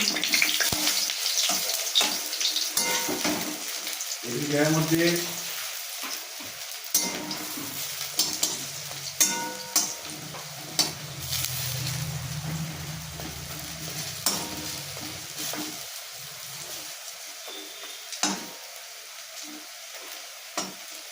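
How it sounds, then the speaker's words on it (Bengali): Lentil fritters fry in oil in a wok with a continuous soft sizzle, broken by scraping stirs, clinks of a spatula and the fritters being turned, all close and moderately quiet. "এবার বড়াগুলো ভেজে নিচ্ছি।"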